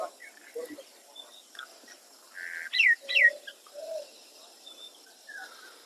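Birds call outdoors, a few short chirps and cooing notes scattered over quiet background, with one brief louder pair of sharp calls in the middle.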